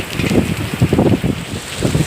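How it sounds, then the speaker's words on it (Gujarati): Rain falling outdoors during a heavy downpour, a rushing patter with gusty, uneven swells, close to the microphone and steady over a couple of seconds, with no voices. "તો વરસાદ પડે છે વરસાદમાં પલરીને આવી ગયા"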